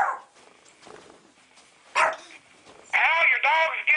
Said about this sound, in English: your dog's getting mad there